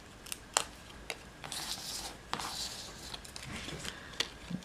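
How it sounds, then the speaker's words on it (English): Backing is peeled off adhesive paper while making a Christmas card, giving faint crinkly tearing rustles and a few sharp ticks and snaps, close and quiet. "Peel off my backings."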